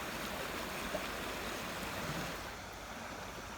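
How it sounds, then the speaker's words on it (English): Water flows steadily in a spring creek at Cold Creek, a constant broadband rush that eases slightly toward the end, with no voices. "So this would be an example of something that we would call a spring creek."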